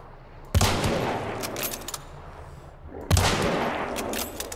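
Gunfire at a large creature in Hunt: Showdown: two loud, close shots a few seconds apart, each a sharp crack followed by a long rolling echo, with no talking.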